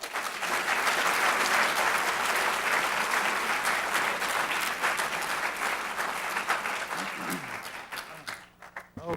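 Sustained applause from a lecture audience greeting the speaker at a Distinctive Voices podium talk, dense and loud throughout before thinning out near the end.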